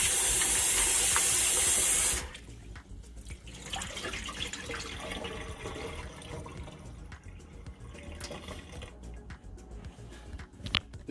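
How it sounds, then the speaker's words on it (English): Tap water runs loudly at first, then drops to softer splashing and trickling as food is rinsed in a sink for beef stew, with occasional drips and no speech. "I'm going to give it a second and next final rinse."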